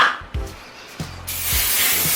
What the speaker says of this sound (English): go ahead and spray, hairspray